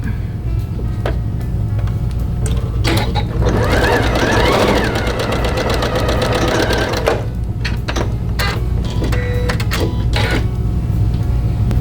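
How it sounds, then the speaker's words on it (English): A sewing machine back stitches a quilt seam, a loud close mechanical whir with rapid needle clatter in several runs, pausing and restarting with brief clicks between bursts. "I am back stitching at the beginning and end of each"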